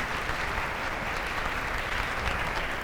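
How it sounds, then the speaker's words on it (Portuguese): A class audience claps in a steady, even burst of applause that runs on without a break, moderately loud and without speech. "Uma salva de palmas."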